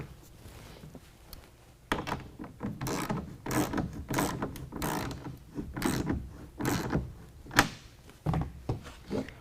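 A ratchet wrench with a half-inch socket cinching down a clamp for a Gator SRX roll-up tonneau cover on a 2017 Ford F-250, close repeated ratcheting clicks in bursts over several seconds with no talk.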